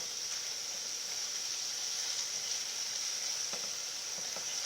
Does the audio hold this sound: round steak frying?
yes